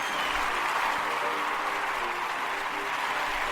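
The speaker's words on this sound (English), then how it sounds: "I'd like to give you a round of applause" A round of applause plays as a sound effect, a dense, even wash of clapping that holds steady for a few seconds without any clear break.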